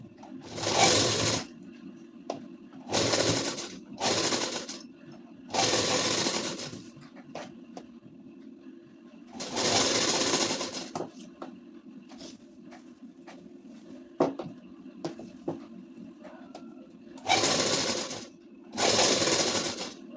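A sewing machine stitches lace onto a ladies suit in short bursts, each run of rapid mechanical clatter separated by quiet pauses, close and fairly loud throughout.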